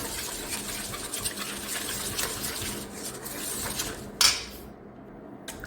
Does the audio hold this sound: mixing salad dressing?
yes